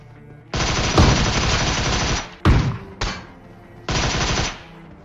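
Gunfire in a battle royale shooter game, with loud, dense automatic bursts close by: a long sustained volley, a sharp single shot, a short burst, then another sustained volley, with no talk.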